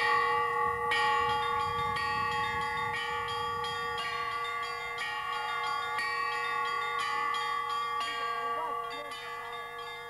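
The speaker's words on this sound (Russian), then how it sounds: "фестиваль колокольного искусства, на который съехались самые именитые звонари России" Church bells ring out at the Kizhi bell-ringing festival, played by leading Russian bell ringers, with sustained overlapping tones and repeated strikes that continue loud and steady throughout.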